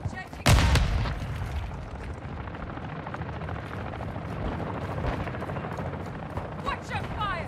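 Rapid video-game gunfire crackles through a combat firefight, opened by a sharp, loud grenade blast near the start, with sustained shooting and distant booms continuing under shouted voices.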